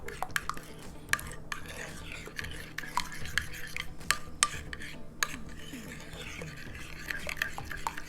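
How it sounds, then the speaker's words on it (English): Meatball mixture for game-day snacks being stirred and worked by hand in a bowl, a steady soft squelching and rubbing with scattered sharp clicks of utensil on the dish, close and fairly quiet, with no talking. "We really need to mix it now"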